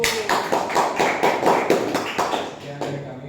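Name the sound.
applause for a group of students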